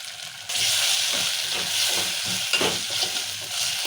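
Food stirred in a hot frying pan while cooking red lentil dalcha, a loud sizzle breaking out suddenly and continuing under rhythmic spatula scraping and mixing.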